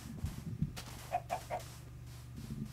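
A few short clucks from a chicken in the Minecraft video game, three quick calls in a row at moderate level over a low steady background hum.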